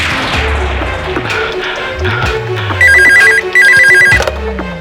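A telephone rings twice in a repeating electronic trill at a hotel counter, loud and close, over a busy background of thuds and clatter.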